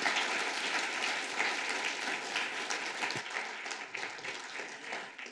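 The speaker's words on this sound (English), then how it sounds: "I'd like you to give a round of applause to our final panel." An audience at a restorative justice conference gives the final panel a sustained round of applause, a dense steady clapping that carries evenly through the whole stretch with no talk over it.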